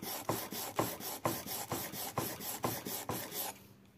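Steel wood chisel being lightly honed on its underside to remove burrs, giving eight steady rasping back-and-forth strokes, close and fairly loud, then stopping as the sound fades out near the end.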